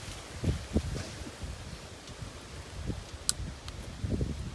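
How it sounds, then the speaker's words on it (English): Gusty wind rumbles and buffets the microphone in uneven bursts, with faint rustling and a brief sharp tick partway through. "It's super windy today. We're getting gusts of 25 to 30"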